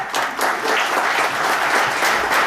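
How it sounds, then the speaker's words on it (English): Audience at a comedy stage hypnosis show breaks into steady, dense applause that fills the whole stretch at an even, fairly loud level. "Give Richard a round of applause."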